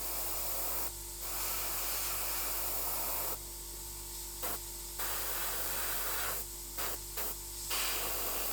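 Gaahleri airbrush spraying paint at low pressure for tabletop miniatures, a steady airy hiss broken by several on-off bursts, with a constant low hum of a compressor underneath.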